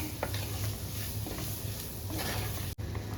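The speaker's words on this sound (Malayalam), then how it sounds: "ഇത് ഇതിലേക്കിട്ട് നന്നായിട്ടൊന്ന് ഇളക്കി കൊടുക്കും" Crushed onion, garlic, ginger and curry leaves stirred in a pan for a fish dish, a steady close scraping and soft sizzle with a brief dropout near the end.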